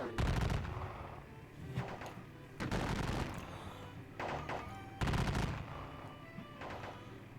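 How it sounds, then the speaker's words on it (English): Musket volleys and artillery fire from a Battle of Waterloo wargame crash out in three loud, dense bursts about two and a half seconds apart, each decaying into a rumbling tail, with no talk. "But their guns are really taking a toll."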